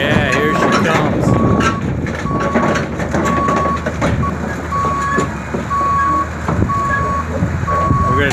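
A truck hauling a trailer rolls in on a rural work site, its reversing alarm beeping in a regular, evenly spaced pattern over the rumble of the engine, while people talk nearby.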